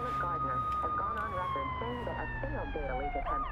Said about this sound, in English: I'm just seeing a random ambulance right now, so I'm gonna try to see where this thing goes